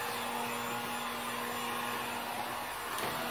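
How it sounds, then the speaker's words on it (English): An inexpensive heat gun runs while warming up, a steady close blowing roar with a faint hum, alone with no talk. "just letting it heat up for a second. This one heats up pretty fast. It's just a cheap heat gun."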